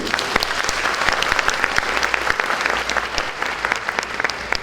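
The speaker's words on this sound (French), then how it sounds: "S'il vous plaît, applaudissez-vous." Women trainees at the closing of an awareness campaign for displaced women are applauded, a brisk burst of many hands clapping with distinct sharp individual claps standing out, lively and fairly close.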